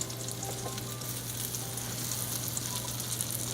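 Cumin seeds sizzle steadily in melted butter and olive oil for a shrimp rice pilaf, a close, continuous frying crackle with no break and no voices.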